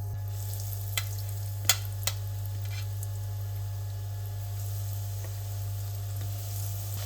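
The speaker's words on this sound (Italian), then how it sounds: "Versate un po' di grattato, di pane e vedete quando sfrigola così vuol dire che è pronto." Breadcrumbs sizzle in hot frying oil being heated to fry mushrooms, giving a steady close crackle and hiss over a low hum, with a few sharper pops near the start.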